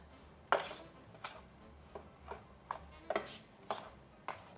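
A breading mix of iodized salt, oregano powder, thyme powder and cayenne is stirred in a bowl, producing quiet, close, rhythmic scraping taps, roughly eight of them at an even pace.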